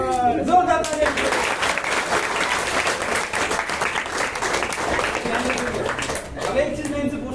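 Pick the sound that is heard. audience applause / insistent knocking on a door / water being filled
audience applause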